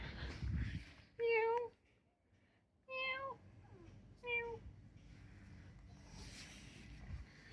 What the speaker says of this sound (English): he gets a resident cat